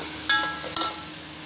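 Tomato, onion and chili frying in a pan for pav bhaji, a low steady sizzle with two short sharp spatters or stirring scrapes close by, no talking.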